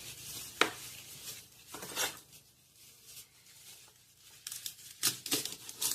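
Kale leaves snapped and torn off their stems by hand, a few sharp crisp tearing bursts spaced apart over a quiet kitchen background, with no talking.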